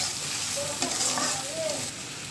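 Onions hitting hot oil with fried cumin and bay leaf for a magur fish curry, a loud steady sizzle with a few spoon scrapes, brief and without talk.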